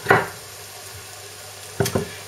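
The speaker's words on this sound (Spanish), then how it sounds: "Mientras se va pochando la cebolla" Onion softening in a frying pan for gratin potatoes gives a low, steady sizzle throughout, with a couple of short stirring scrapes near the start and again toward the end.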